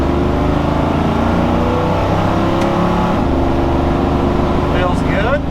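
Engine of a Toyota FJ45 Land Cruiser pulling steadily in gear after a shift, a loud continuous low drone that holds through the whole stretch with slight rising whine near the end.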